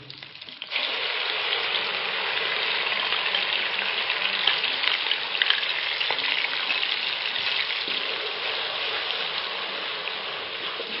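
Onion paste frying in a pan for white chicken korma makes a loud, steady hiss that starts abruptly and continues evenly throughout with faint scraping, close up and with no talking.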